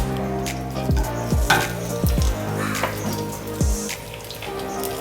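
Whole cinnamon, cloves and cardamom sizzle in hot oil, with a steady frying hiss punctuated by several sharp crackles and pops as the spices hit and spit, close and fairly loud with no talk.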